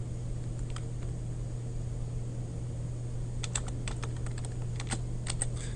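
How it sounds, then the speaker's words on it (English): Quick bursts of keypresses on a computer keyboard as a password is entered, soft and close, in two short clusters over a steady low hum of room or fan noise. "Put in the password"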